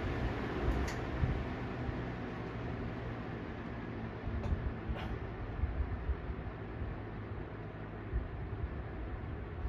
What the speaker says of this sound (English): This is a very nice low. I could sleep with this.